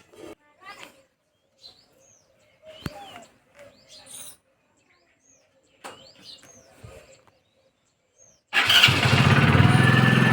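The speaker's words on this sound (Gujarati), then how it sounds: "જુઓ બાઇક સ્ટાર્ટ કરીએ હવે" After scattered birdsong and quiet movement, a motorcycle engine abruptly starts and runs loud and close, rumbling steadily.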